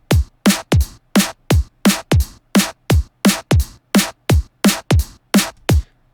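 An electronic drum beat sounds alone: about sixteen punchy, evenly spaced hits with deep booming tails roll along at a steady tempo.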